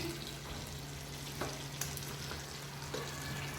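Beef samosas frying in hot oil, a steady, faint hiss and sizzle with a low hum beneath and a few soft bubbling pops, with no talking.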